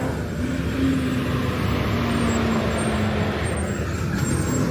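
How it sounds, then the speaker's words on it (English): A big truck passes close by, a loud steady roar of engine and road noise with a faint hiss overhead, filling the whole stretch without letup. "there's a big truck going by"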